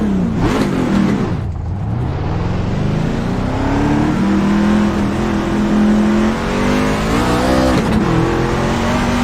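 Loud and up close, a Ford truck engine in the iRacing sim drones steadily, dipping with each gear change and climbing back while racing, with no talk over it.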